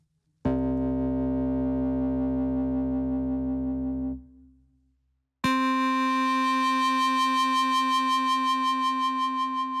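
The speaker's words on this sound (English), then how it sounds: "When I remove the filter bypass," A sustained tone from a cardboard synthesizer plays, fades out, then returns brighter and buzzier with a much richer upper range once the filter is bypassed, held steady to the end.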